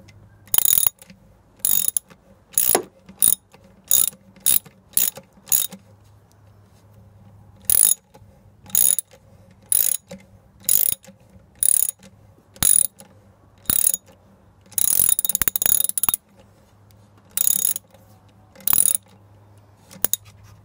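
A socket ratchet clicks in repeated short bursts while tightening a small hose clamp on a cold air intake being fitted to a 5.7 HEMI, close and loud with brief pauses between strokes.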